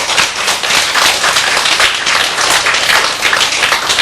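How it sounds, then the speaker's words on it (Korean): Loud, close audience applause during a Buddhist Lotus Sutra lecture, a dense, even roar of clapping hands sustained across the whole stretch. "박수 좀 쳐라고"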